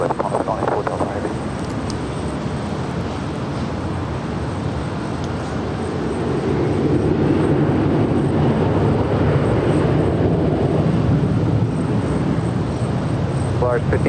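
A jet airliner takes off from runway 24 left at Los Angeles International Airport, a loud continuous roar that swells midway and holds steady, heard from nearby outdoors with a faint high whine above it.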